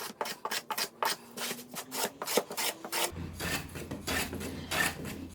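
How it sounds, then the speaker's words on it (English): A block plane chamfers the edges of a wooden cutting board in a run of close, rhythmic rasping strokes, each a short scraping swipe, with a faint low hum joining partway through and no talk. "I took my block plane and put a chamfer on every edge."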